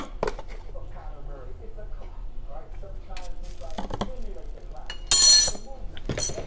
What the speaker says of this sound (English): Let's go ahead and get that stirred in.